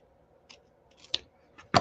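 Stampin' Up! paper cut with scissors in a quiet room, a few faint snips and clicks followed by a sharper, louder crisp cut at the end.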